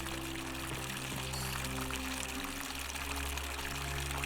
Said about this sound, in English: Where's the water coming from?